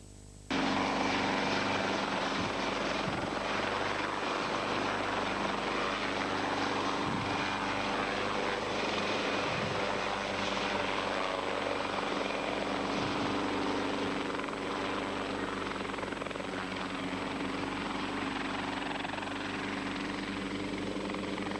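Helicopter in flight over Rapla, a loud, steady rotor and engine roar heard from inside or very near the aircraft, constant throughout with a faint rhythmic blade chop.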